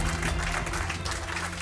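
Applause from an audience at an award ceremony, a dense steady wash of clapping over a low hum, with no pauses through the moment.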